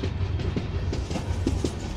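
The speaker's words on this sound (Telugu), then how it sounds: "మన ట్రైన్ వచ్చేసి నిడబ్రోడ్కి అయితే రీచ్ అయింది" The Andaman Express, running with LHB coaches, rolls into Nidadavolu station with a steady low rumble and a string of rhythmic wheel clacks over the rail joints, heard close and continuous.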